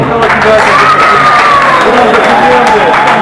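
An audience applauds and cheers at a boxing event, a dense, loud, continuous wave of clapping and shouts, with an announcer's voice carrying over it.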